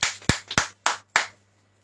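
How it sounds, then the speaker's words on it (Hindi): Clapping during a church service, about five sharp, close claps in uneven rhythm over a low hum, no talking. "ताली बजाएंगे खुदा के लिए"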